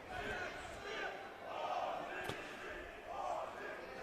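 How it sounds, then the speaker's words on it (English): A soccer crowd at a National Premier League NSW match between Sydney Olympic FC and Mt Druitt Town Rangers keeps up a loud, sustained chant that swells and dips, with a single thud partway through. "Crowd still in full voice though."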